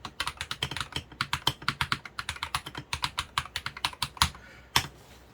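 Rapid keystrokes on an E-Yooso TKL mechanical keyboard, crisp close clicks in a steady, slightly uneven typing rhythm, with a few harder taps near the end.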